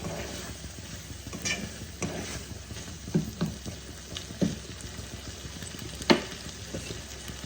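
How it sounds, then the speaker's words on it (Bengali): Kala chana chickpeas sautéed in a pan for Bengali-style ghugni give a steady low sizzle, broken by a few sharper clinks and scrapes of stirring. No voices. "ছোলাগুলো দিয়ে দেওয়ার পরে আরও 10 মিনিট ভালো করে কষাবো"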